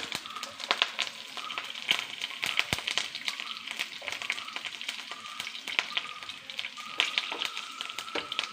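Steady crackling sizzle of green chillies frying in hot oil over low heat, with dense pops and spits throughout, close and fairly loud, no talking.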